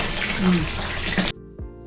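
Tap water runs at a guppy farm, a steady broadband splash filling the first 1.3 seconds, then cutting off abruptly into near quiet with a faint low hum.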